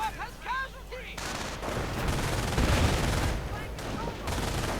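Machine guns held by grenadiers open up alongside veteran riflemen in a video game battle, a loud sustained crackle of dense overlapping gunfire that swells and holds after a brief opening.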